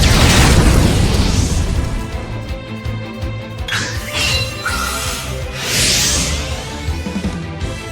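A fire spell cast in Octopath Traveler 2 erupts in a heavy boom followed by crackling bursts and whooshing flares, loud and layered over game music.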